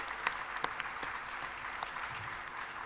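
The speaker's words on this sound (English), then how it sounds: "Can we please give them a big round of applause?" Applause from a conference-session audience honouring the event organizers: steady dense clapping with a few sharper individual claps standing out, moderately quiet and even throughout.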